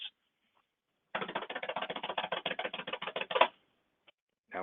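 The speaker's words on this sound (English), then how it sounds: "Andrew, can I get a drum roll, please?" A rapid drumming patter, probably fingers tapped on a desk or keyboard as a makeshift drum roll, runs steadily for about two seconds at close range and ends in a slightly louder final hit, with no voices.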